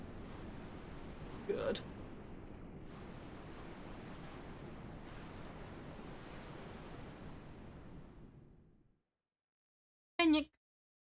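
Ocean waves in the Final Fantasy 2 video game, a steady rushing surf that runs loud and continuous for about nine seconds, then cuts to silence before a short burst of a different sound.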